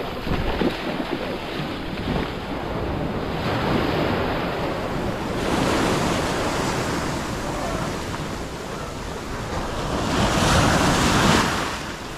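Atlantic Ocean waves wash onto a beach in Portugal, a loud continuous roar of surf that swells and recedes in slow surges, mixed with wind buffeting the microphone, close and constant.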